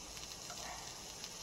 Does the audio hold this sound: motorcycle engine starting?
no